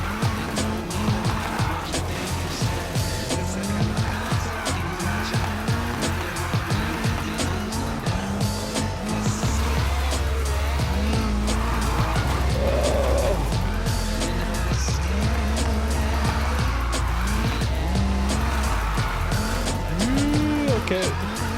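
Nissan 350Z drifting in the racing game NFS Heat, its engine droning loud and steady with repeated rising and falling revs and tire squeal, continuous throughout without talk.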